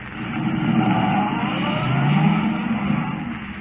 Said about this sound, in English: Forcing the car to the limit of its speed, Kent races toward Linwood